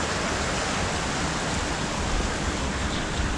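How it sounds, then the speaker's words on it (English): A natural river flowing down past a valve house near Llangollen, a steady broadband rushing wash that never lets up, fairly close and even in level. "that's the natural river"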